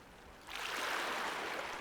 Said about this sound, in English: in the sound of water